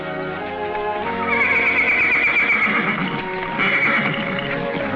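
A horse whinnies with a long, wavering neigh that rises and falls, fairly close and clear, with no talking.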